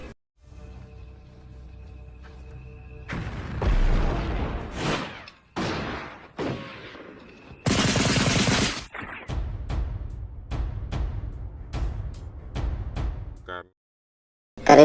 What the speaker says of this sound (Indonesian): suasana menjadi kacau ketika Belanda meluncurkan peluru meriamnya